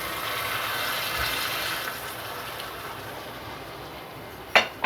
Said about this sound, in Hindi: थोड़ा सा पानी यूँ करके डाल देना